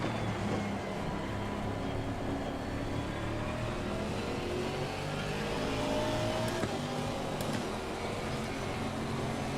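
Racing car engine in Assetto Corsa Competizione, British GT pack: a steady, moderately loud engine drone with shifting harmonic tones that runs throughout, with no talk.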